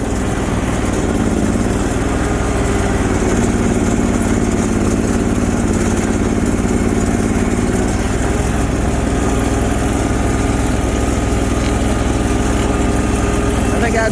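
A Bolens 1600H garden tractor with a 20HP Briggs engine runs in deep snow, giving a steady, loud mechanical drone that holds for the whole stretch with little change in pace.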